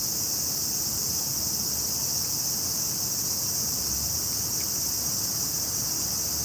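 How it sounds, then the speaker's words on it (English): Cicadas buzzing outdoors around a Tokyo food truck market in Ginza, a dense, continuous high shrill drone that holds steady throughout over a low hum of ambient noise. "the sound you hear are the cicadas."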